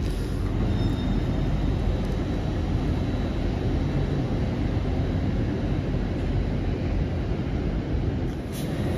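A loud, steady roar of a Deltic diesel locomotive at full throttle departing Kings Cross, dense and continuous throughout with no voices.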